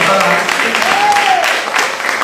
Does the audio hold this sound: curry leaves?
no